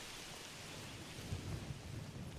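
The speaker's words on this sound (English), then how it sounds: "it's still raining" Rain falls in The Elder Scrolls IV: Oblivion as a steady, faint wash of hiss with a soft low rumble partway through, and no voices.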